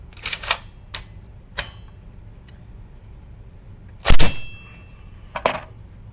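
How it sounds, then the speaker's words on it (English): Sharp mechanical clicks from a rifle's action, a handful of crisp snaps spread irregularly across a quiet background, the loudest and fullest pair landing near the end. "now you can let go there, and you hear that good audible click"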